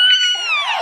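A cat gives one loud, drawn-out meow close to the mic, its pitch sliding downward as the call fades at the end.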